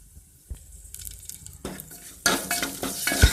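Spices with turmeric, chili and crushed garlic sautéing in oil in a pan, starting with quiet scattered clinks and stirring, then breaking into a louder close sizzle with a sharp utensil knock near the end.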